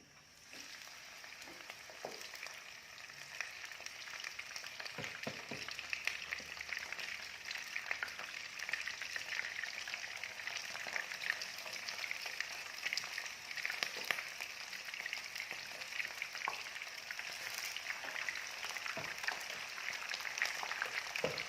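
Steady, soft crackle and hiss of oil heating in a pan, continuous and fairly even throughout with occasional small pops, no voices.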